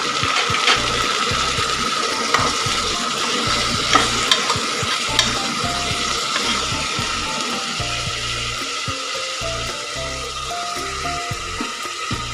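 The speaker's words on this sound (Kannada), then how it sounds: "ಸ್ವಲ್ಪ ಈರುಳ್ಳಿ ಫ್ರೈ ಆದ ನಂತರ ಅದಕ್ಕೆ ಹಚ್ಚಿಟ್ಕೊಂಡಿರೋಂಥ ಟೊಮೊಟೊ ಹಾಕೋಣ." Chopped tomatoes stirred into onions frying in oil in a pan for tomato bath, a continuous loud sizzle with repeated scraping strokes of the spoon throughout.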